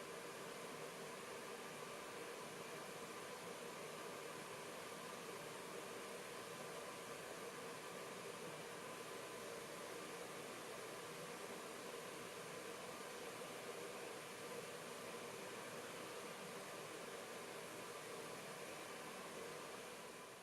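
Fan and heating element of a continuous drying system running, giving a steady, even broadband whoosh of blown air that holds at a constant level throughout with no voices.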